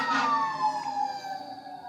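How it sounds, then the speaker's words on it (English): A wailing siren sweeps up and down in pitch, loud and steady for the whole stretch, with no voices over it. "Excuse the sirens."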